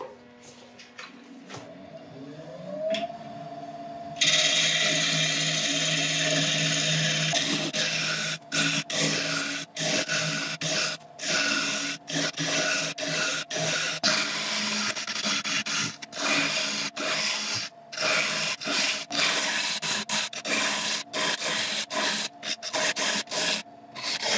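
An elm bowl is hollowed on a woodturning lathe, with a steady motor drone and a continuous scraping, rasping tool cut broken by short gaps. It stays close, loud and busy throughout with no talking.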